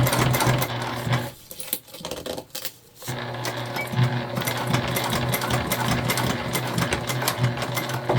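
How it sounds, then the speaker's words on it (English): A sewing machine stitching a small bag, running in a fast steady mechanical rattle up close, briefly pausing and slowing before resuming at full speed, with no talking. "we did backstitch at the beginning and the end"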